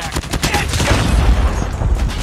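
Rapid gunfire in the Call of Duty: Mobile video game: dense bursts of automatic shots, loud and close, crackling in quick succession with a low booming underlay.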